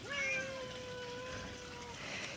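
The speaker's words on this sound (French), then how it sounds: "Il y a des chats à côté de moi." Cats meow close by in a warm outdoor spot in Uluwatu, with one long, drawn-out meow over faint background noise and a little soft talk.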